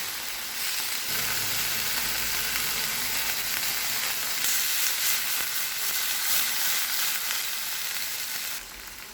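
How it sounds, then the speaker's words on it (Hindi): Chicken fries in a pan in a loud, steady, close sizzle with a dense crackling hiss that carries on evenly throughout and drops off just at the very end, with nobody speaking. "तीन से 4 मिनट तक चिकन को पका लेंगे।"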